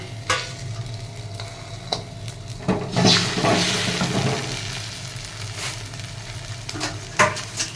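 Steady sizzling of food frying in a wok, with occasional scraping and stirring clatters, close and moderately loud, no voices.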